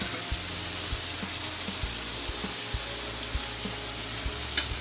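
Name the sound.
chicken meat frying in a pan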